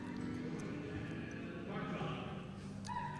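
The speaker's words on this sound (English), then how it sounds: "this is another nice horse coming around the corner" Show horse hoofbeats in an arena, faint and rhythmic, heard under ongoing commentary and background ambience.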